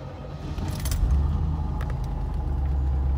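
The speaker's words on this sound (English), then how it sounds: "now I'm gonna start the car and see if I get that same." A 1985 Chevrolet Corvette C4 with a cold engine starts: a brief jingle of keys and cranking, then the engine catches into a steady, loud low idle rumble.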